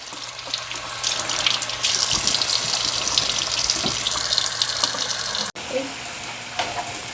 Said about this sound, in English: I'm gonna lift this up and wash my hands really quick